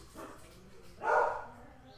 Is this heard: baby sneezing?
no